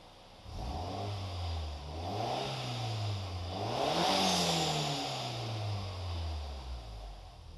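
A 1995 Toyota Celica GT with a swapped 3S-GTE turbo engine revs under throttle, its mid-pitched drone rising and falling through several blips, close and steady with no talk.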